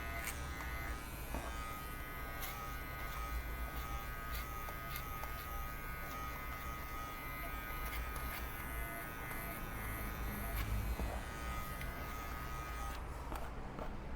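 Electric hair clipper fitted with a 6mm guard trimming the lower back of a man's two-block haircut, a steady close buzzing hum running continuously with slight shifts as it moves through the hair.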